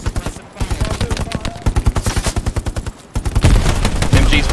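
Rapid automatic gunfire in the World War II shooter Hell Let Loose during a trench assault, loud sustained bursts of closely spaced shots that pause briefly, then roll into a denser, heavier barrage.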